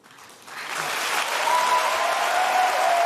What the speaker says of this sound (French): Alors, ils sont tous en train d'applaudir, évidemment.